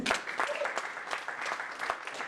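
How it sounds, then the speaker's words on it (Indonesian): Audience applause at a church sermon, a steady wash of many hands clapping close and loud for a couple of seconds, with no talk over it. "Tepuk tangan."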